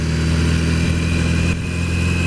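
A Yamaha XJ650 Maxim motorcycle engine runs loud and close with a steady mid-pitched drone and a slight dip partway through the ride, with no voices.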